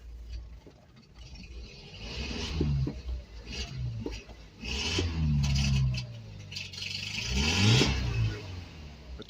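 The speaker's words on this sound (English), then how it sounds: "Carburetor, you can hear, is kind of not happy, not real happy" A 1984 Toyota Tercel SR5 4WD engine, long left in dry desert sun, runs rough on an unhappy carburetor, revving up and down unevenly with rattly, scraping clatter, close and alone.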